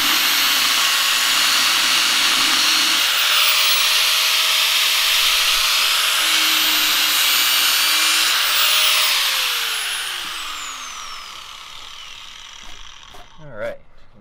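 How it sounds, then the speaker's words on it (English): A cutoff wheel grinds through the beam of a barn-find Bug with a loud, steady, high whine for about nine seconds, then winds down and fades, leaving a few faint clicks near the end. "So we're thinking we're going to use a cutoff wheel."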